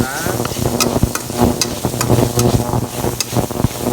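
Ground pepper and coriander are stirred in a hot pan for a beef dish, a steady sizzle with repeated scraping and clacking strokes of the spoon close up.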